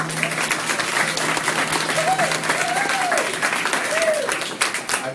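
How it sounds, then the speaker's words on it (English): Audience applause for an author named Jonathan at a Pulpwood Queens book club discussion panel, steady dense clapping throughout with a voice or two rising over it. "we have a round of applause for Jonathan"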